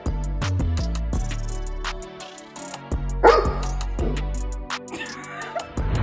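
A puppy barks and yips excitedly at its owner arriving home, a run of quick, loud, close barks with brief whimpers, set against steady music.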